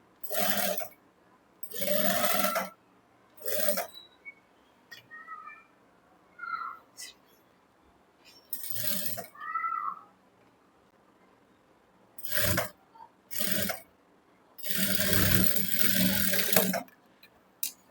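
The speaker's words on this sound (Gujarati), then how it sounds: "તો અહીંયા અડધા ઇંચના ગેપમાં આપણે સિલાઈ લગાડશું." Sewing machine stitching a princess-cut blouse seam with a half-inch gap: short mechanical whirring runs start and stop repeatedly, one longer run near the end, with quiet pauses and faint small sounds between.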